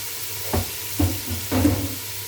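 Red pepper and garlic sautéing in a pan for a home-style Turkish dish: a steady low sizzle with three soft stirring scrapes spaced about half a second apart, close by and moderately loud, with no voices.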